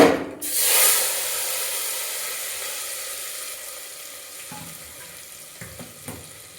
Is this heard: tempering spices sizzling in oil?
yes